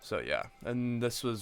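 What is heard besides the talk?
No everyday noise stands out behind the speech.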